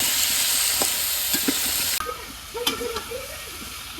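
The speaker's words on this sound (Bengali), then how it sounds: "পেঁপে আর আলু ভাজা হয়ে গেছে" Papaya and potato pieces, seasoned with turmeric powder and salt, fry in a pan in a village kitchen, producing a close, bright sizzle with scraping stirs that grow busier toward the end.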